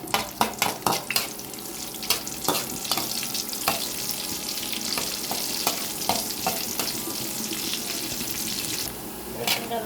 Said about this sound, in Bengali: রসুন কাটিয়ে দিয়ে দিলাম, এখন একটু রসুনটা লাল করবো